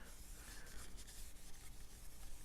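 Steady, even rubbing on a wooden black limba (korina) guitar neck for a custom Strat being finished with wax, a continuous soft friction hiss close by with no talking.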